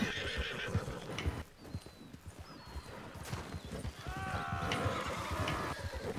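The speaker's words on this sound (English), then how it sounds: "There's a horse." A horse whinnies loudly and repeatedly over a steady clip-clop of hooves in Red Dead Online, close by, with the whinnies rising and falling in pitch.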